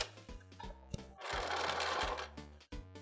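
A sewing machine stitching a jeans hem, its motor running in short rhythmic bursts of stitching with a longer continuous run in the middle, close and fairly quiet.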